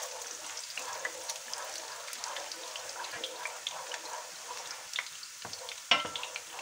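Garlic sizzles gently in hot oil in a pan while it is stirred quickly, a soft steady frying crackle with faint scraping, plus one sharper clink near the end.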